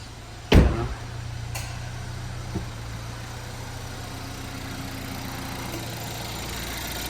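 A used Chevrolet Equinox engine idles with a steady low hum, close and even throughout, after a brief thump at the start and a faint click later; no talking.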